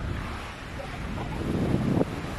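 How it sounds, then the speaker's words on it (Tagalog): Steady, moderate surf rolling in at Bagasbas Beach in Daet, Camarines Norte, a continuous wash of waves blended with gusty monsoon wind buffeting the microphone. "yung alon dito tuloy-tuloy pa rin, parang pang surfing nga"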